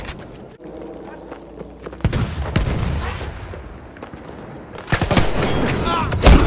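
Gunfire in the Battlefield 1 video game, with bursts of machine gun shots and loud booms among game voices, growing denser and heavier toward the end.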